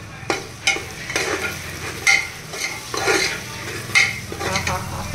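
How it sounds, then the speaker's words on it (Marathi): Ground spices such as turmeric, garam masala, red chili and biryani masala sizzle in hot oil for a village-style biryani, with steady frying hiss broken by repeated scraping stirs of a spoon against the pot. "तर आता आपल्याला हे मसाले यामध्ये परतून घ्यायचे आहेत."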